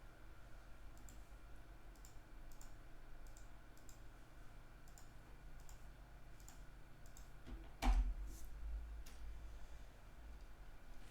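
Names being typed on a computer keyboard: faint, irregular light key clicks over a steady low hum, with one sharper louder click near the end, no talk.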